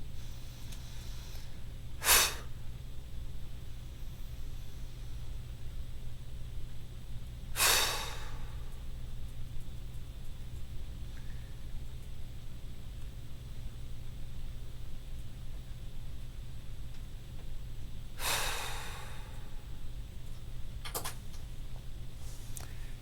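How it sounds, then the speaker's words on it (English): Three sharp, forceful breaths break a quiet, steady background hum during a kung fu breathing exercise, spaced several seconds apart, each a short loud exhale or snort. "Sometimes you may try a little bit fast breathing."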